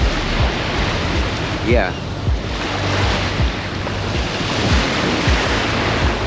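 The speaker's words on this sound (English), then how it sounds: "got the ocean going." Ocean surf and wind on a beach form a steady broadband wash with rolling swells, loud and continuous, with a brief voice and a soft rising tone partway through.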